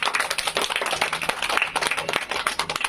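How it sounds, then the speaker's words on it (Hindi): An audience at a school event claps for the children, with dense, steady applause of many hands throughout and no talking. "बजाइए ताली इनके लिए।"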